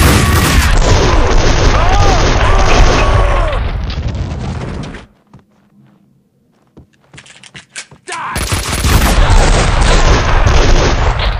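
Gunfire fills a shootout in the Max Payne 2 video game, rapid loud shots and booms in dense bursts, a short near-silent gap with a few isolated pops, then another heavy volley.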